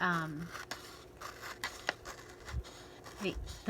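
Scissors trimming paper for a junk journal page, with several quiet snips and rustles spread over a few seconds while a person talks.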